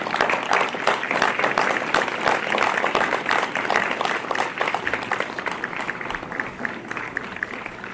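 Graduates and guests at an RVTC awards night give a round of applause for supporters, a lively crowd of clappers with distinct sharp claps, sustained for several seconds before gradually thinning out.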